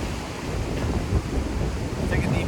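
Ocean waves washing in a steady, broadband roar that stays constant and fairly loud throughout, with no clear breaks between swells.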